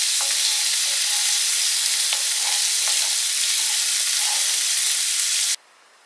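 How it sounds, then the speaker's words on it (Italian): Chickpeas fry with cumin seeds and paprika in a pan, giving a loud, steady sizzle with faint stirring scrapes. The sound runs unbroken and without talk for several seconds, then cuts out abruptly near the end. "Aggiungiamo i ceci e lasciamo cuocere per altri 2 minuti."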